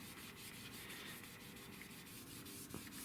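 A rag rubs finish onto and off a wooden stock of a .410 garden gun being restored, giving a faint, steady scrubbing hiss in quick back-and-forth strokes at close range.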